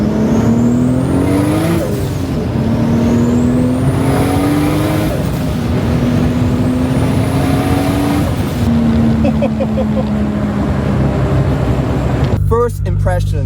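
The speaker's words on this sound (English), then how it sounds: "First start up of the Supra." A right-hand-drive Toyota Supra engine idling and revving loudly near its first start-up, with rising and falling engine pitch throughout and people talking over it before a sudden cut near the end.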